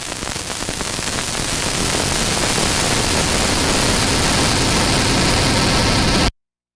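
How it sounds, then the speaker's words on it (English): A riser effect made from a disintegrating sound: dense, hissing broadband noise swells steadily louder over several seconds, then cuts off abruptly into silence. "that's a riser of some sort, right?"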